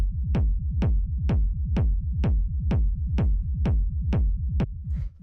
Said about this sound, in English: the first sound that we have here is the kick